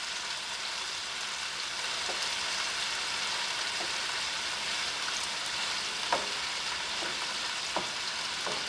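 Thin pieces of chicken breast fry in a pan for Japanese curry, giving a steady, loud sizzle throughout with a few sharp clicks of stirring.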